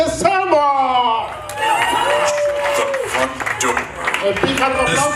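A party crowd claps and cheers for a DJ, with whoops and loud overlapping voices mixed into music-like tones throughout.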